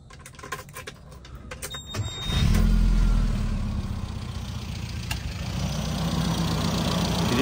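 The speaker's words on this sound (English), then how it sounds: "That was the AC compressor kicking in because I do have the AC on." Inside a quiet idling 1996 Rover Mini, a few light clicks come first, then a low mechanical hum swells in as the AC compressor kicks on and keeps running steadily.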